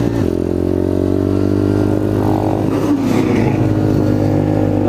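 An Apollo RFZ pit bike engine idles steadily with its choke open, a loud, close, continuous thrum with a smooth even rhythm and a brief rise in revs midway.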